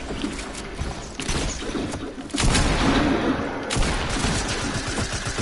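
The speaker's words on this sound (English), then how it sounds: "I'm getting shot at" Gunfire in Fortnite during a live match, dense crackling shots and impacts rolling on continuously, fairly loud and close, with rougher bursts partway through.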